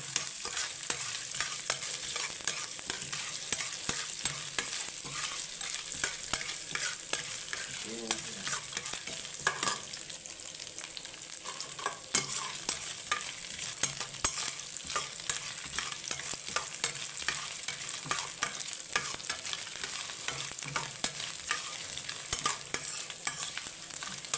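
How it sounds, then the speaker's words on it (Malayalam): Steady, continuous sizzling of coconut frying in ghee in a pan, close and fairly loud, with occasional stirring scrapes throughout. "ഫ്രൈ പാൻ ചൂടാക്കിയിട്ട് അതിനകത്തോട്ട് തേങ്ങ നെയ്ക്കകത്ത് വറുക്കുകയാണ്"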